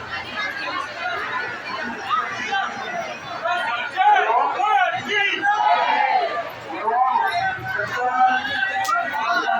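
Dense crowd of pilgrims at Mansa Devi temple in Rishikesh, a steady close hubbub of many overlapping voices and chatter filling the whole stretch without pause.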